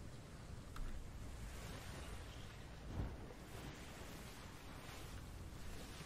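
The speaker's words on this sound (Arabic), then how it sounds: "يا الله وش ذا الموج" Ocean waves while sailing in the video game Atlas, a dense wash of surging water and wind, rolling continuously with a couple of heavier crashes, fairly loud with no voices.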